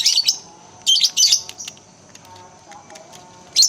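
Lovebirds chirp in sharp, high bursts as they are placed into a colony cage, clustered calls at the start and midway with a quieter stretch of faint rustling between and one more burst at the end.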